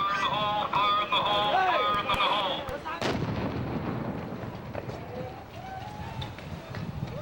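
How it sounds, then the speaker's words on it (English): A controlled explosion set off by an American bomb disposal unit destroys a captured car bomb in Iraq, a sharp loud blast near the middle followed by rumbling debris and outdoor noise, with voices talking before it. "An American bomb disposal unit uses a controlled explosion to neutralize a captured car bomb."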